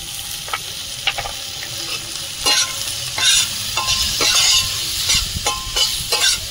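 Spices and green tomatoes sauté in a pan with a steady sizzle, broken by repeated scraping strokes of a spoon stirring the mixture, close and fairly loud, no voices.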